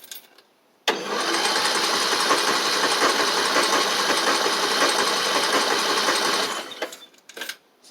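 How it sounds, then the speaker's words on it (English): A car engine cranks steadily for several seconds, powered through a Buture Beta09 jump starter, a loud, close, continuous churning that starts abruptly and then fades out, followed by brief clicks. "it gives you about 8 to 10 seconds of cranking, as you saw"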